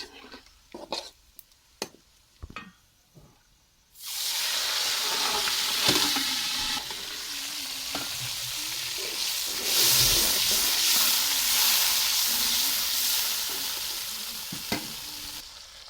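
Whole cumin seeds fry with onions in a pan, a few clatters and knocks leading into a sudden loud, sustained sizzle and hiss that swells slightly midway and continues to the end.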